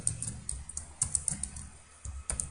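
Fingers type C code on a computer keyboard, a quick irregular run of close, crisp key clicks with a short pause before a final burst.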